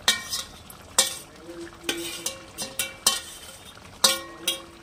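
Fried onions tipped into chicken korma cooking in a pan, heard as a series of sharp spoon-on-pan scrapes and clinks, several evenly spaced strokes over a light sizzle, close and fairly loud with no talking.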